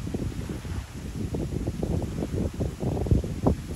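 Strong wind buffets a lakeside camp before a rainstorm, a steady loud low roar with fluttering gusts hitting the microphone throughout, no voices.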